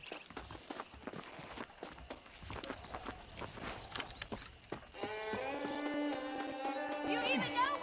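Horse hooves clopping in a video game, a loose string of footfall thuds under game sounds, with musical tones coming in over the second half.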